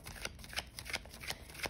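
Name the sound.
shuffling a deck of tarot cards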